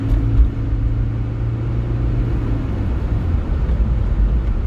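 Road traffic rumbling around a moving car, a steady low engine and tyre drone with a passing vehicle's swell near the start, loud and continuous with no talking.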